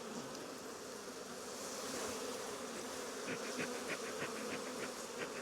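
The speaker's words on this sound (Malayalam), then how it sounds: "ഈ ഈച്ച എല്ലാം തന്നെ തിരിച്ചിങ്ങ് വരുമല്ലോ?" Honeybees swarm noisily around an opened wooden beehive box, a dense steady buzz filling the air with no talk.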